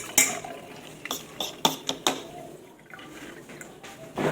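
A spoon clinks and scrapes against a glass of Nestea Cleanse drink mix and cold water in a quick series of light taps, with liquid swishing faintly, close and fairly quiet.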